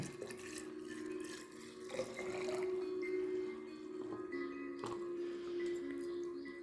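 Water fills a container for a ginger and lemon detox drink with a soft, steady, close pouring and trickling sound and a faint ringing tone, with no speech.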